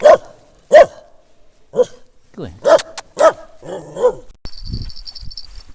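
Angry dog barking at a fishing pond, several loud separate barks spaced apart, followed by someone speaking near the end.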